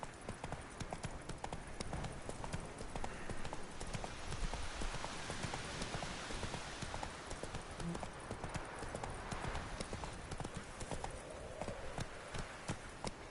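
Horse hooves gallop in a steady, continuous clip-clop in The Witcher 3 video game, loud and unbroken across the whole stretch over a noisy game backdrop.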